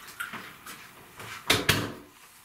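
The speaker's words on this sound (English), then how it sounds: "the guy just opened the door like that" A door opens with a couple of sharp knocks and handle clicks, close and fairly loud, after softer rustling movements.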